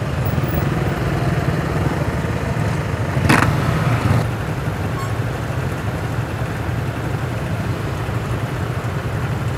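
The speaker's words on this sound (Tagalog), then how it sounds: "Haba ng traffic, oh." Heavy road traffic in Davao City, a steady broadband rumble of many cars and motorcycles idling and creeping in a congested jam, with a brief louder passing vehicle partway through.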